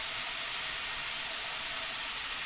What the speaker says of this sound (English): Now I brown the meat with the butter and garlic.